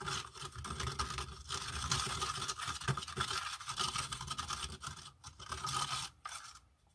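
Eco resin being mixed with cement and sand, a continuous gritty scraping and churning of wet, slushy aggregate, close and loud, with short pauses between strokes and no talking.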